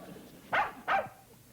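A dog gives two quick, sharp barks in close succession, moderately near and clear against a quiet background, with no speech over them.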